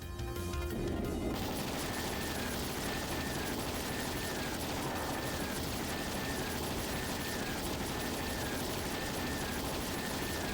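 Cannon fire from a fleet of ships in the Trails in the Sky SC video game, a dense, continuous barrage of booms and crashes that stays loud throughout, layered over game music with a repeating tonal motif.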